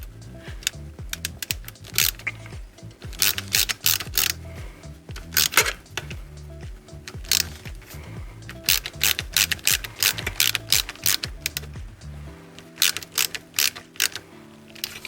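Screws are spun down and snugged on an HP DPS-1200FB server power supply, giving quiet, irregular ticking and ratcheting clicks, close-up and soft, continuing in a steady scattered patter without talk.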